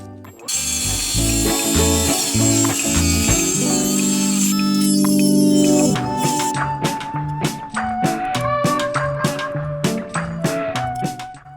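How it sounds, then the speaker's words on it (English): Dremel rotary tool with a cutoff wheel grinding through a metal pirate sword: a loud, steady high-pitched whine with a sustained cutting stretch, then a series of short sharp bursts and taps as the wheel bites in and lifts off. "just use the cutoff wheel and the Dremel tool"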